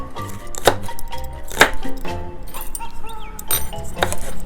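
A pepper being chopped into small pieces on a board, close, sharp knife strikes in an irregular rhythm with light clinks between them.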